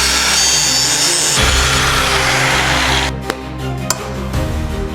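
A power tool, likely a drill, runs steadily and loudly while boring a hole in a part for the oil and air lines of a turbo shovel, then cuts out near the end, leaving a couple of sharp clicks and knocks.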